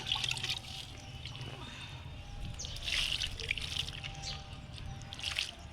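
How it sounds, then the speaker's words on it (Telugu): Water is poured onto potting soil in a small garden pot, producing a faint, soft trickle and splash with light dripping, close by and fairly quiet. "ఇప్పుడు నీళ్ళు పోసుకుందాం."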